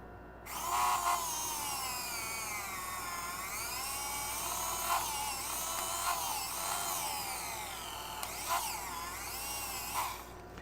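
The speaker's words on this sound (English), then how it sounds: "Sounds like a dentist drill, kind of." A Tamiya hobby drill and router cuts a slot with a steady high-pitched whine that rises and falls in pitch as it bites, loud and close, sounding much like a dentist's drill, with no talking.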